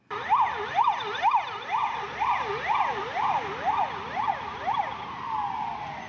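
An ambulance siren wails in a steady up-and-down pattern through dense city traffic, loud and close with a rumbling road bed underneath.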